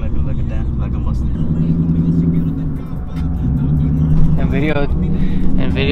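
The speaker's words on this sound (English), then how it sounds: "It sounds exactly like a Mustang." At a truck show, a car engine with a Mustang-like note rumbles and revs steadily nearby, a deep throaty drone swelling in a couple of throttle blips, while people talk over it.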